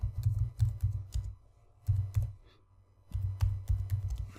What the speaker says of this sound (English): you can just highlight that, delete that, and start typing here